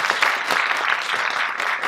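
Conference audience applauding in a hall, a steady dense wash of many hands clapping at once, loud and sustained throughout with no talk over it.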